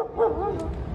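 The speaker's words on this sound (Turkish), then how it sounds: "Köpekler birden saldırıyor." Stray dogs in a residential neighbourhood street, one dog giving a short yelping bark or whimper, close and fairly loud, with no other sounds alongside.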